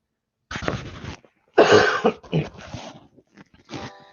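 Several close, raspy coughs come in bursts, with a loud fit in the middle and a short cough at the end.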